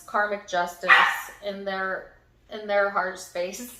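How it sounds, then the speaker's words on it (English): A dog barks and yips in short bursts close by, mixed in with someone talking over it. "Excuse my dog."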